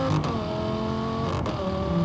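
A modified Lamborghini Gallardo LP560-4 V10 pulls under load with sharp, brief breaks in its tone as it upshifts twice, its tone dropping after each shift, moderately loud and heard from inside.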